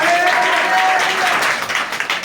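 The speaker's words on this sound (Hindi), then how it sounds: "ताली बजाओ जोर से, जोर से बजाओ, जोर से" Audience at a preaching meeting clapping loudly after being urged on, a dense, continuous wash of applause that tapers slightly toward the end, with a faint sustained tone beneath it early on.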